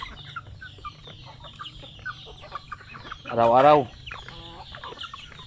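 Chickens cluck on a Filipino poultry farm, with scattered close clucks throughout and one louder, longer squawking call midway, under a person speaking in Filipino.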